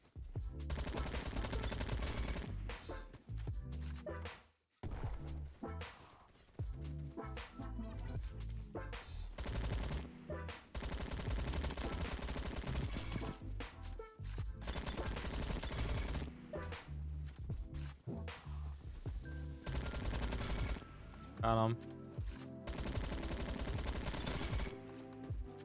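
Sustained automatic gunfire in the Roblox shooter Bad Business: dense, loud, rapid bursts that run almost continuously, broken by one brief pause, with little or no talk.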